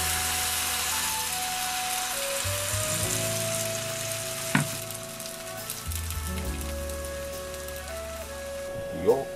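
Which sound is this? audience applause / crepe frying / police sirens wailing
crepe frying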